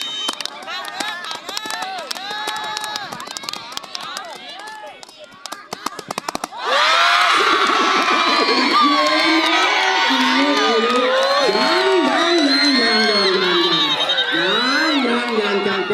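A cheering squad crowd roars at a football penalty shootout in a final match, first scattered drumming and shouts, then a sudden loud sustained wave of cheering and whooping close by.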